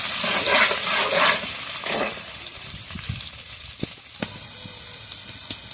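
Onions frying in a pan until browned for a Bengali doi begun dish, a steady broadband sizzle and hiss that is loud at first and then eases, with a few sharp clicks and taps near the end.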